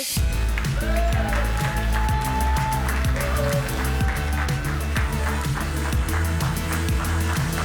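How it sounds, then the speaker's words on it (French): Audience applause at a French bee corporate presentation on interactive marketing and the traveller experience, loud and sustained with dense clapping over a rhythmic music track with a steady beat. "je vais vous demander d'applaudir très fort Yasmine Chali et David Sasportes"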